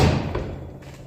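A door shuts with one heavy, muffled thud at the start that fades away, heard up close in an indoor space.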